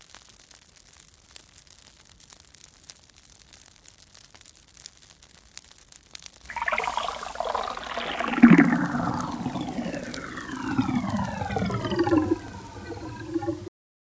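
Water gushes into a steam locomotive's tank in the Rails of Highland Valley video game, starting abruptly partway through as a loud rushing, gurgling pour that rises in pitch as the tank fills, then cuts off.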